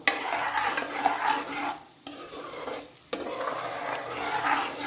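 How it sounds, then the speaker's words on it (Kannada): Cashews fried in ghee and oil are stirred in a pan, a steady sizzle broken by scraping strokes and two short pauses, close and without voices. "ಅಲಾಂಗ್ ವಿತ್ ದ ಕ್ಯಾಶ್ಯೂಸ್ ಒಂದ್ಸತಿ ಸ್ಟರ್ ಮಾಡ್ಕೊಳ್ಳೋಣ ಇದನ್ನು."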